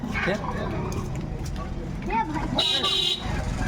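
Car horns honk amid road traffic in Ayodhya during a jam, with a sharp toot near the end over a steady rumble of vehicles and people talking close by.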